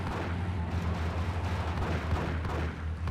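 Gunfire from the video game GTA: Chinatown Wars crackles as a dense stream of muffled shots and booms over a steady low rumble, with no voices.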